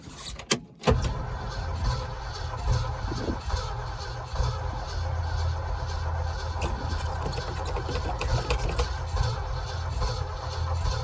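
Ford Highboy truck cranking over in the snow on a cold start attempt, preceded by a sharp clunk, then a steady, close, droning churn that continues without letting up.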